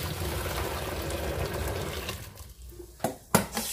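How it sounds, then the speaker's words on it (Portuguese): Hot water poured into a container to dilute caustic soda, a steady rushing pour that tapers off, followed by a couple of sharp knocks near the end. "Eu vou derramar aqui a água primeiro"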